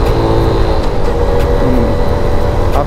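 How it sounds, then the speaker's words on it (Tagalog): A Suzuki Smash 115R motorcycle engine hums steadily up close with a faint whine whose pitch shifts midway as it changes gear, over continuous road and wind noise. "Pakinggan nyo yung tunog ng makina."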